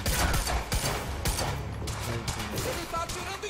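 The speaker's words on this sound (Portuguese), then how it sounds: "Ele tá atirando em mim!" Rapid bursts of enemy gunfire in the shooter game Quantum Break, loud and dense volleys with a voice briefly heard under the shots.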